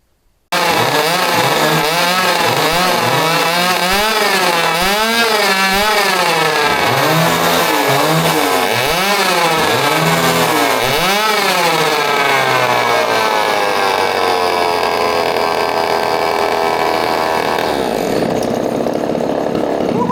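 A vintage Homelite Super XL automatic chainsaw roars loudly and close, revving up and down in repeated waves before settling into a steady high idle-to-full drone.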